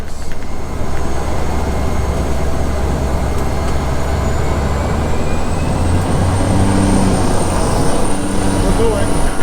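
Airliner engines spool up to a loud, steady roar for takeoff on a Sansa Airlines flight, heard from inside the cabin as a continuous rumble with no one speaking.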